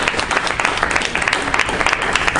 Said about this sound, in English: Yeah, you can go ahead and clap.